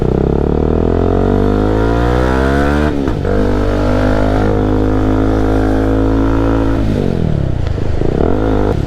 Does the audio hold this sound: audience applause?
no